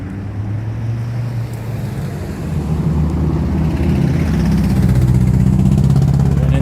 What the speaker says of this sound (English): You have healthy, loud engines, and then you have engines that could be loud